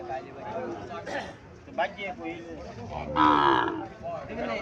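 Young Sahiwal bull calves at the Chandimura cattle market in Cumilla low and moo repeatedly, fairly close, amid market chatter, with one longer, louder bellow in the middle.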